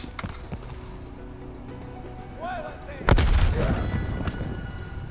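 A grenade and gunfire sound in a Call of Duty Cold War campaign mission: scattered shots first, then a sharp, loud blast about three seconds in, followed by a rumbling tail, with soldiers' voices calling out in the mix.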